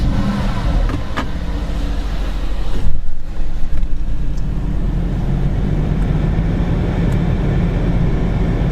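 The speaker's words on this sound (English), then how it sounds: "Let's start the car up." A Mercedes-AMG GTS engine comes alive in a loud, steady idle, with a brief dip and surge near the start before settling into a constant close-up rumble with no talking.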